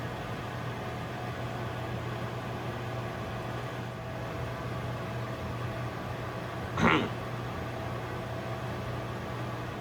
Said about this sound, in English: Now it's time to microwave the other ingredients.